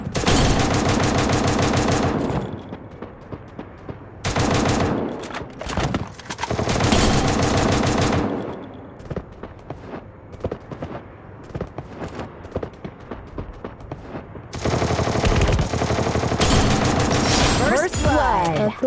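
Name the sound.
gunfire and headshot in a shooting video game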